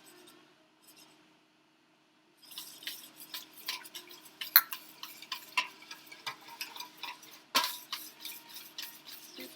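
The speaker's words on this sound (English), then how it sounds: "So we're going to whisk this together." A whisk clicks and taps rapidly against the side of a bowl while mixing coleslaw dressing with salt and pepper, a quiet, close, irregular scraping rhythm that starts after a brief near-silent moment.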